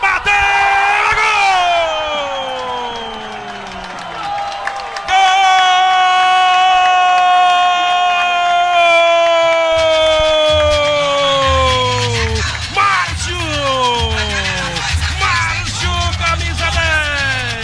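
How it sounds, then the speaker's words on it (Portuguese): Supporters roar at a Copa São Paulo de Futebol Júnior 2014 match after a Flamengo de Guarulhos goal against Vitória. A loud, long drawn-out shouting voice dominates over the steady crowd noise, and low rhythmic thumping joins in partway through. "E a torcida vai vibrando, vai cantando, fazendo a sua festa."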